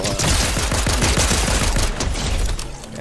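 Rapid automatic gunfire bursts in the video game Fortnite, a dense loud rattle of closely spaced shots lasting about two and a half seconds before tapering off.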